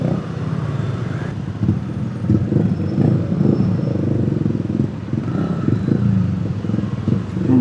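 A motorcycle engine rumbles steadily while riding through heavy city traffic, loud and close with uneven throttle swells and surrounding vehicle noise.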